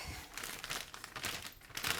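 A plastic piping bag crinkles and rustles as a star-shaped nozzle is pushed into it, close quiet crackling bursts over about two seconds, no talking.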